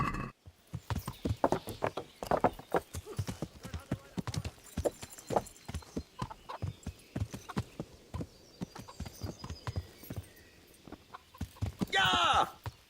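Horse hooves clip-clop steadily on the ground in the medieval role-playing game Kingdom Come: Deliverance, a dense run of close hoofbeats under game ambience, with a burst of louder noise near the end.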